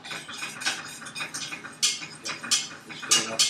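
Whisking in a pan over low heat while making roast pork, a busy run of light metallic scraping and clinking strokes in uneven bursts, close up with no talking.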